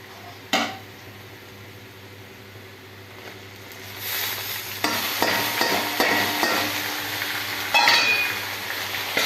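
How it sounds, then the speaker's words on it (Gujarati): Onions and tomatoes fry in a pan for pasta, with a steady sizzle that builds and grows louder. A utensil clinks and scrapes against the pan while the mixture is stirred. "હવે ટામેટામાંથી મસ્ત તેલ ના છૂટું પડે ત્યાં સુધી એને આપણે શેકાવા દેવાનું છે"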